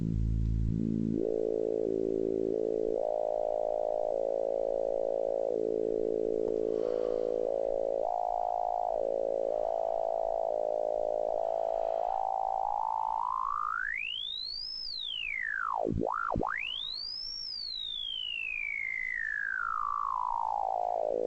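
A synthesizer oscillator set low at 55 hums as a buzzy harmonic tone, stepping through pitch changes, then swoops up into loud, whistling chirps that dive and rise again, heard alone.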